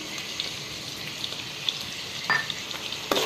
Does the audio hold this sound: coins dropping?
no